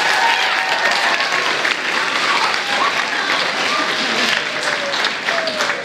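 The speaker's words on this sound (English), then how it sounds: "Let's give him another round of applause." Steady audience applause in a school cafeteria during a middle school awards ceremony, a dense continuous wash of many hands clapping with faint voices mixed in, holding even throughout.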